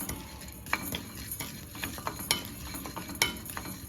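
Spices slow-roasting in a pan for sundakkai kuzhambu, with soft scraping and clinking of a spoon stirring at an uneven pace over a faint sizzle.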